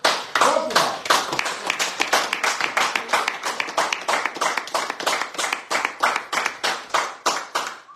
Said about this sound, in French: on les applaudit parce que nous on les aime bien et on les encourage